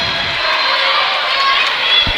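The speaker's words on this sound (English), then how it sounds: "it's a really great crowd" A crowd in the gym at a girls high school basketball game keeps up a steady, loud roar of cheering and chatter for the whole moment, with a faint thud near the end.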